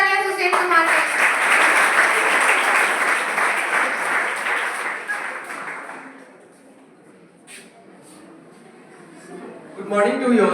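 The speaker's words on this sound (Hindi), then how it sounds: "जोरदार तालियां इन सभी बच्चों के लिए।" School farewell audience for Class 10 gives a loud, dense round of applause that fades out after about six seconds, followed by a quiet pause and a voice starting at the end.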